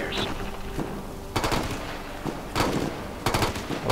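Assault rifle bursts ring out in Ghost Recon Future Soldier, with several sharp, loud volleys separated by pauses over a low combat ambience.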